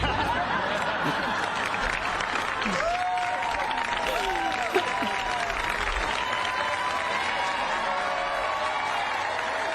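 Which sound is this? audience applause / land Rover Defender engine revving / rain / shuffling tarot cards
audience applause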